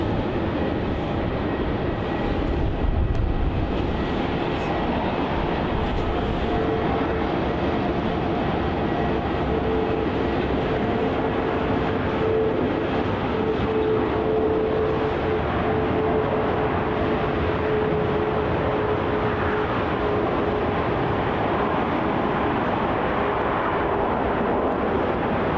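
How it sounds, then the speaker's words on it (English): A Qantas Boeing 717 jet takes off from runway 34 at Melbourne Airport, its engines building to a loud, sustained roar with a thin buzzing whine on top, heard from a distance and continuing steadily throughout. "the Qantas 717 lining up there on runway 34. Going to be taking off to Canberra as QF1514."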